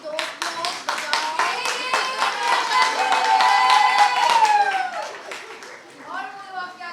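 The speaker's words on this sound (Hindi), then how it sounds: "जोरदार तालियां प्रियंका की दोस्त लोग बजाओ।" Audience at a college fest stage event clapping for a guest, a run of distinct claps building into applause while children and adults cheer and call out over it, then tapering off.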